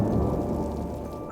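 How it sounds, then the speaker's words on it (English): Rain falls over a Chicago cemetery, a short burst of steady, low, rumbling patter without any talking. "Now, it is raining"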